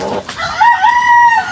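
A rooster crows in one long, loud call with a rising then sustained tone, close by among other farm chickens, with no talk over it.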